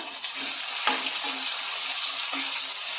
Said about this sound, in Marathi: इथे कढीपत्त्याची पानं घेतली ती मस्त तळून घ्यायचे